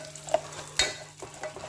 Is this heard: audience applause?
no